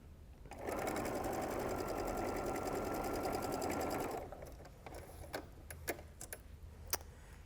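A sewing machine stitches quilt fabric pieces together for a wonky heart baby quilt, a fast, even mechanical whir running about three and a half seconds before stopping, followed by scattered small clicks and handling sounds.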